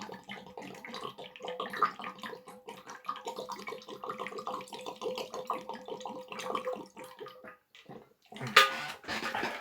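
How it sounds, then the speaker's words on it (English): A loud water bottle is opened and drunk from: a steady run of close gurgles and swallowing sounds, fairly quiet overall, ending with a sharper snap or clack near the end. "I get laughed at a lot in school because my water bottle's so loud."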